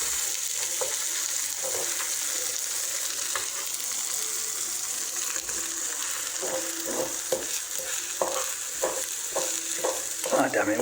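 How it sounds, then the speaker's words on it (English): Eggs and vegetables fry for scrambled eggs in an apartment kitchen pan, giving a steady, close hiss of sizzling. Intermittent scraping stir strokes grow more frequent toward the end. "Ah, damn it, we're making scrambled eggs anyway."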